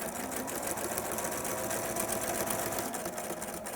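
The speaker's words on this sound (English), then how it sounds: "going to pop back over to the sewing machine and stitch" A sewing machine stitches fabric in a continuous, even, rapid mechanical rattle, heard up close and alone throughout.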